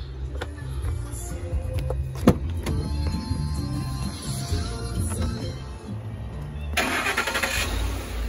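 A 2010 Ford F-150 XL with a 4.6 liter Triton V8 cranks and starts, settling into a steady idle rumble, with a brighter rising hiss as revs pick up near the end; no talking.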